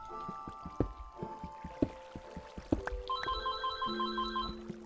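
Phone ringing at a gaming session, tonal electronic ring notes entering over sparse water-like drips and clunks, rising in loudness toward the end, no talk.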